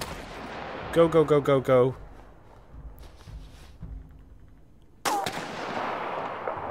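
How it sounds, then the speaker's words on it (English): Sniper rifle shots in the video game This War of Mine: a sharp loud crack near the end with a long decaying echo, while a voice talks urgently earlier in the clip. "A sniper shot me."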